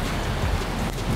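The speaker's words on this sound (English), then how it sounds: "Yeah, it's raining." Steady rain hisses continuously, a dense, even wash of patter with no voices.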